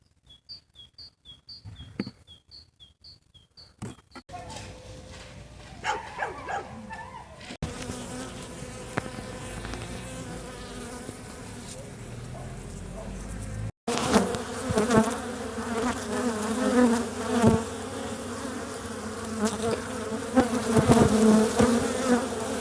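Steady insect buzzing swells into a dense, loud hum of many honeybees at an apiary after winter, with faint chirps early on and no talking.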